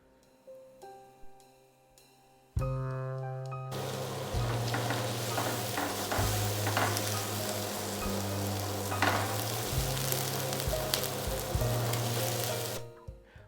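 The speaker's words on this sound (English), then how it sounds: "we can start to melt some butter and cook the onion until they" Onion cooking in melted butter in a pan for a crayfish pasta dish, a steady close sizzle that bursts in after a few soft clinks and keeps frying loudly, then cuts off near the end with no talking.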